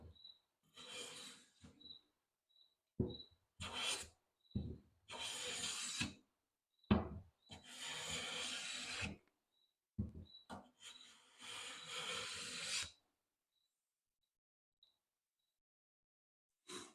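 A hand plane jointing the edges of two clamped wooden boards, heard as a series of close, rasping strokes, some short and some long, separated by quiet pauses, with faint tool clicks between strokes.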